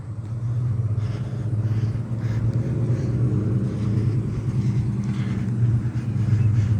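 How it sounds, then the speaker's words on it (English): A loud truck rumbles by in a residential neighbourhood, a steady low engine drone that stays heavy throughout and swells slightly near the end. "There's that loud truck again."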